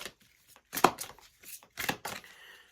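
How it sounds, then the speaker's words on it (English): Several quick riffling bursts of tarot cards being shuffled, close and moderately loud, with short pauses between them and no talking. "Going to give them a shuffle."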